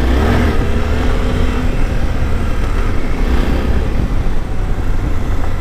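A Suzuki V-Strom 800 DE motorcycle ridden on a gravel road in Mammoth Cave National Park, a steady engine drone mixed with heavy wind rush and tire crunch, loud and continuous with no speech.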